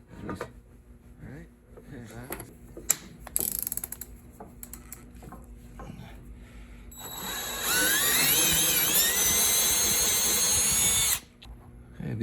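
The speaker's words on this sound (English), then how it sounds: "I'm going to do the second one with the drill again." A drill drives into a router table fence adapter made for a Delta table saw fence. Scattered clicks and small mechanical knocks come first, then a loud, steady whirring burst lasts about four seconds and stops abruptly, with a person talking nearby.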